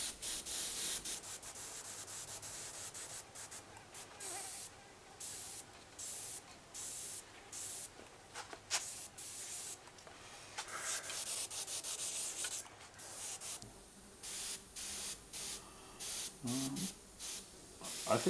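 An airbrush spraying paint onto a totem pole painting, short hissing bursts that start and stop repeatedly, close and fairly quiet, with brief pauses between sprays.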